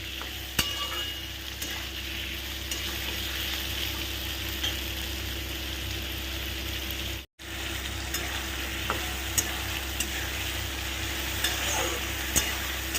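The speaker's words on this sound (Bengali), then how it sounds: "এবার সব কটা জিনিস একসঙ্গে ভাজবো।" Ginger, potatoes and prawns frying together in a pan, giving a continuous sizzle with repeated stirring scrapes and occasional sharp clicks, heard alone without talk.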